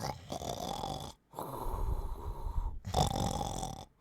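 A voice imitates a giant snoring during a tabletop role-playing game, giving two long, rumbling, nasal snores separated by a short breath gap, close and moderately loud.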